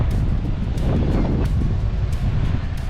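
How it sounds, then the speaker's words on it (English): Strong, steady wind buffets the microphone at Marina Park beach in Ventura, a constant low roar with gusty surges throughout and no voices. "It's a little bit windy today."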